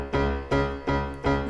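Piano chords struck four times without the sustain pedal, each one sounding and then decaying before the next, leaving short gaps between the chords.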